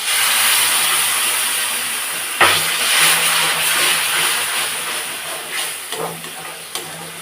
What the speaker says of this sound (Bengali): খুব ভালো করে একটু নেড়ে চেড়ে দেবো।